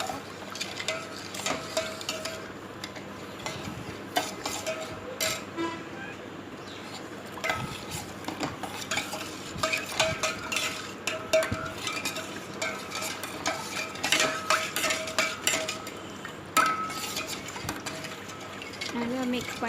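Sugar is stirred into a custard bread pudding mixture, with repeated close scraping and clinking of a spoon against a bowl in an uneven rhythm, fairly quiet, with a voice heard now and then.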